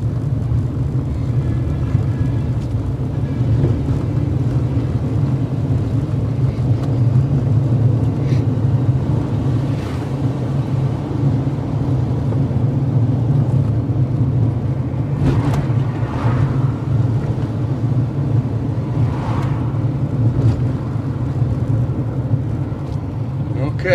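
A car drives along a country road near Stony Hill, Jamaica, its engine and road rumble filling the cabin as a steady low drone with a few brief bumps and rattles, while people in the car talk over it.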